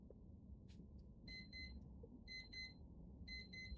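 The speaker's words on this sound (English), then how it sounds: "The demon timer just went off" Repeated electronic timer alarm beeping in short clustered bursts, a few pulses at a time with brief gaps, heard faintly over a low room rumble.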